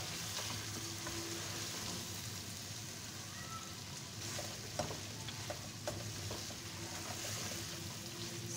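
Chicken white karahi being stirred in a pan while it sizzles and fries. A steady, soft hiss carries throughout, with a few light scrapes and clinks of the spoon near the middle.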